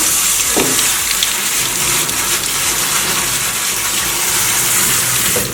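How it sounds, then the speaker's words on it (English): Oat groats are rinsed under a running tap at a kitchen sink, a steady, loud gush of water splashing throughout with no speech. "So every time you use oat groats, you should wash them."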